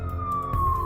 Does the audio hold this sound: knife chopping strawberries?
no